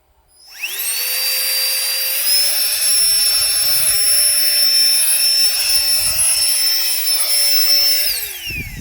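A Nitecore BB Nano handheld electronic blower spins up and runs with a loud, steady high-pitched whine, then winds down at the end, with faint handling bumps and no talk.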